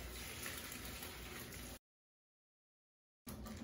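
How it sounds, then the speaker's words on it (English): Cold tap water pouring over cranberries held in their bag, a dense, steady hiss of running water that cuts out abruptly for over a second before resuming. "So we're just going to rinse under cold water."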